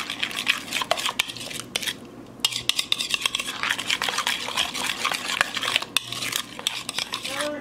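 A spoon stirs chicken seasoned with chili and mustard in a dish, sharp scraping clinks against the container repeating irregularly, close and fairly loud, with a brief pause partway through.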